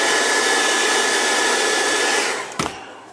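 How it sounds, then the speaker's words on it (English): A hair dryer blows steadily and loudly at close range while drying paint on the base of a Creature from the Black Lagoon statue, then cuts off near the end, leaving a brief thump. "I got the hair dryer, and dried it as best I could"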